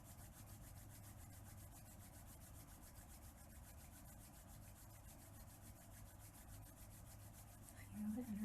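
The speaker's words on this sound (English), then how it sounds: "we're going to rub our hands together" Hands rubbing together during a summer solstice ritual, a steady, rhythmic brushing swish of palms that runs continuously and grows slightly louder at the end, with no talking.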